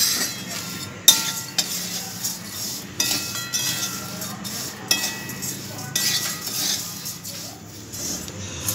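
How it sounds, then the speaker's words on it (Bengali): Fried flattened rice (chire bhaja), made with very little oil, is stirred and mixed: a spoon scrapes and clinks against the vessel in irregular, sharp taps and rattles, close up, with no talking. "এরপর সব উপকরণগুলো আমি খুব ভালো করে মিশিয়ে নিচ্ছি।"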